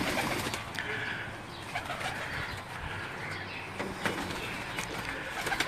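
Pigeons coo in soft repeated low calls over a busy background of rustling and faint chirps, fairly close and steady.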